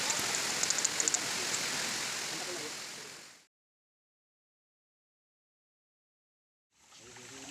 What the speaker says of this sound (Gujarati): તમારો વરસાદ ચાલુ થઈ ગયો છે